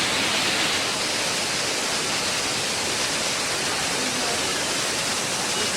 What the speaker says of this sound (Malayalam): ഏകദേശം 100 അടിയോളം ഉയരത്തിൽ നിന്ന് പാറക്കെട്ടുകളിലേക്ക് ചിതറിത്തെറിക്കുന്ന അരീക്കൽ വെള്ളച്ചാട്ടം